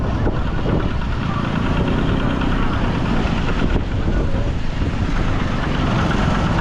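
A steady, rumbling tractor engine idles close by, a continuous low chugging drone that holds level throughout with no voices.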